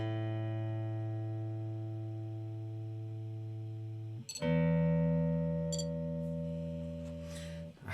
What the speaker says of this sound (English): I was looking for a tuner. I just wanted something a little and portable, and I saw this and I was like, oh, it's got a metronome in it.